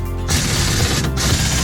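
Tool ratcheting and clanking metal as bolts are tightened on a coil spring compressor, a dense, close mechanical clatter.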